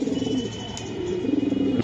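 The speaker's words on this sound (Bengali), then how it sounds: "এই যে আরেকটা কবুতর আমি দেখাই দিলাম।" Racing pigeons coo in soft, low rolling calls, two throaty phrases close by with a brief gap between them, heard alone over faint background noise.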